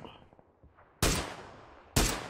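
Two heavy, loud gunshots ring out in the PUBG PC battle royale game about a second apart, each followed by a fading tail, preceded by faint game sounds.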